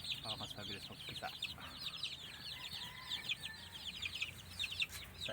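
Hens at a backyard chicken farm cluck repeatedly in quick, overlapping bursts, moderately close, with soft low background noise underneath.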